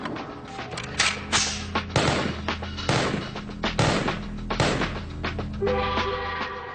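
A Masada rifle chambered for AK-47 rounds fires a string of loud, sharp shots, about six or seven spaced roughly a second apart, each cracking and then decaying with a booming echo.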